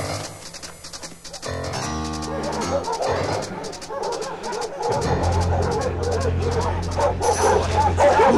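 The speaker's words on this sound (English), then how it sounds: "Dogs! Hunting dogs!" A pack of hunting dogs barks and yips continuously, the barking loud and overlapping, with whimpers and a dense background of movement and music-like tones throughout.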